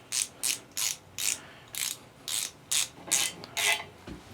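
A hand ratchet clicks in about ten short, regular bursts, close and clear, while bolts on a marine Chevy 5.7 350 (Indmar) V8 engine are tightened by hand during assembly.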